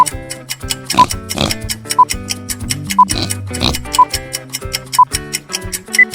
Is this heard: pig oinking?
yes